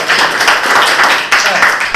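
A classroom audience claps in a dense, steady burst of applause that fills the short moment, close and fairly loud.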